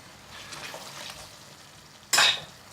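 Chicken korma sauce with added base gravy is stirred in a pan of oil that has begun to split. A quiet, steady background gives way near the end to a short, loud burst of scraping sizzle.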